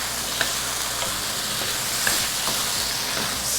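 Food sizzling in a pot on a stove as it is stirred, a steady close hiss of frying with a few soft scraping knocks scattered through.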